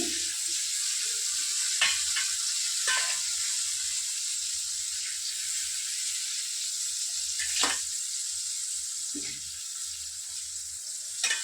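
Hilsa fish pieces marinated in salt and turmeric frying in hot oil, a continuous close sizzle with several splashy crackles and bursts scattered through, no voices.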